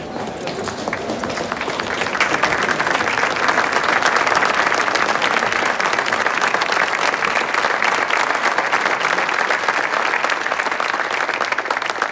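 A large crowd applauds soldiers in a scene set during Argentina's independence wars under General Belgrano, with dense, sustained clapping that swells after the opening and stays loud and even throughout.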